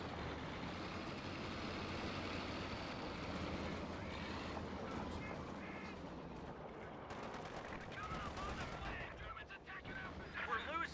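MG-34 machine gun fire in a Company of Heroes 2 battle: dense, sustained rattling gunfire layered with rumbling explosions and battle noise, continuous and loud for the whole stretch.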